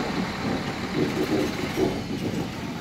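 Low rumbling drone of a VLT light rail train running coupled to a second VLT set, a steady near mechanical hum with faint rhythmic wheel knocks and no talk.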